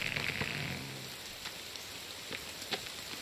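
Steady rain falls in a forest survival video game, a soft even hiss on surfaces with a few scattered drop taps, no voices.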